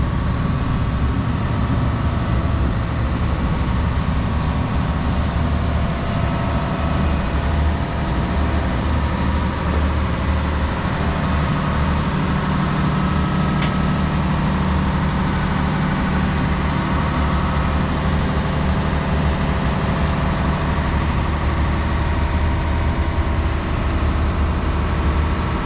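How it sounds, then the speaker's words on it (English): Engine room machinery aboard the tall ship Danmark, a loud, steady, close diesel drone with heavy low rumble and broad mechanical hiss, unchanging throughout with no talk. "We're now entering the engine room"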